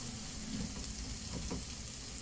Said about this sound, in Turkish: pirincim biraz kavurduktan sonra yarım çorba kaşığı tereyağı koydum. Onu da güzelce kavuruyorum.